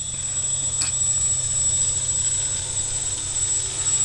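An X650 multicopter drone hovers and drifts in a test flight, giving a steady, fairly loud rotor drone with a high whine held throughout and no talk over it.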